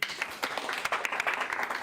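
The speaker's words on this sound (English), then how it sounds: "another round of applause for Neil." Applause from a modest meetup audience of developers, with distinct individual claps forming a brief, moderately faint round.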